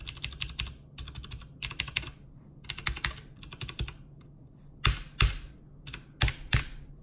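Keys on a gaming keyboard typed in short bursts, some fitted with O-rings and some without, giving clusters of crisp clicky strokes and then a few louder, sharper single presses near the microphone, with no talk.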